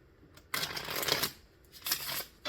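Two quick bursts of mini tarot cards being shuffled, close and crisp, separated by a short pause.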